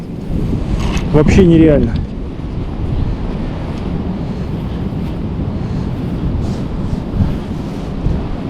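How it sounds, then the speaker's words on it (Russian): Strong wind buffets the microphone while fishing from a rowing boat on a lake, a steady loud rumble and rush throughout with someone speaking briefly near the start. "Сильный ветер."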